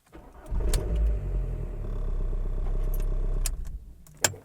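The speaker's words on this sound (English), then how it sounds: "Start the engine" A Skoda Fabia Mk1 starts: a jangle of keys, a brief crank, then the engine catches and settles into a low steady idle, followed by more key rattling at the end.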